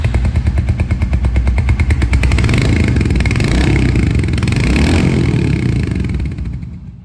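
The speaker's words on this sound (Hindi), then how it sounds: "और अब यहाँ पर बात करते हैं अबाउट हंटर 350 और इसकी जो आवाज है ना SOHC 2 वाल्व ऑयल कूल की आवाज" A Royal Enfield Hunter 350 motorcycle with a SOHC two-valve oil-cooled single-cylinder engine runs nearby. It gives a loud, rhythmic thumping exhaust beat that swells into a revving rise, holds, then fades out at the end with no talking.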